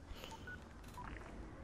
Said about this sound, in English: I heard the phone call.